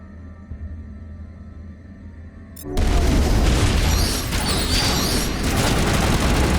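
Rapid pistol fire in the Mass Effect video game, a loud dense burst of shots and impacts kicking in abruptly after a quieter ambient stretch and continuing as sustained combat noise.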